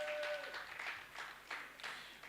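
Audience applause at a youth pre-conference session, heard as soft, steady clapping from a crowd at a distance, fairly faint and lasting the whole moment.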